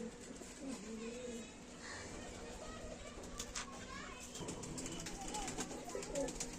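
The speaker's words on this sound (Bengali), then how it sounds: "এ হচ্ছে আমার কালাঙ্খা মাদি বাড়ির মেন বিটার পায়রা" Madrasi pigeons coo faintly in a quiet yard, with distant children's voices, a little wing flapping and low talk in the background.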